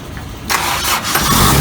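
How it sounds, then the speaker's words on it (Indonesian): A Toyota Kijang Kapsul engine cranks and catches on its first start while jump-started, with a sudden loud burst of cranking that settles into a rough running idle, close up. "First time start engine."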